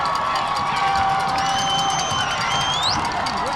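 A packed crowd at a high school football game between Ludlowe and Norwalk cheers and shouts continuously, loud and dense, with whoops and a few whistles rising above the roar on a tense fourth down.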